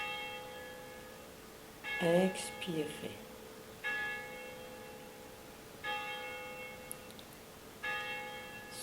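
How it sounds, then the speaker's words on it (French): Church bells ring out in several separate peals, sounding a little distant, over a soft steady hum; a voice speaks briefly between strikes. "tout en écoutant le son des cloches"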